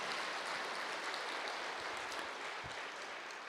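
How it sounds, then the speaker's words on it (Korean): A church congregation at a Sunday evening worship service in Gwangju claps together in thanks, a steady, fairly faint wash of applause that holds evenly throughout with no voices on top. "우리 하나님께 한번 감사와 영광의 박수 한번 올려드리면 좋겠습니다"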